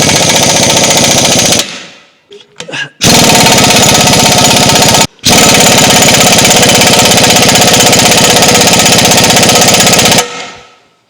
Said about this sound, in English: And just hammer it on there with the impact.